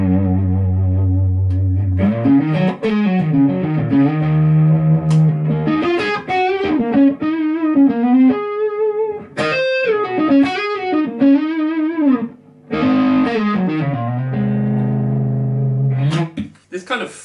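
Electric guitar through a Mesa Dual Rectifier amp with a thick, saturated high-gain tone playing sustained chords and melodic bends, fuzzy and loud with short pauses between phrases.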